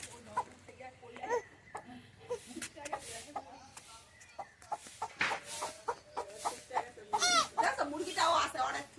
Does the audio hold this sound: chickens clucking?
yes